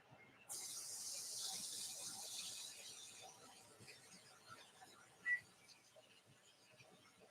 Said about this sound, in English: Y'all can listen to this sizzle right here.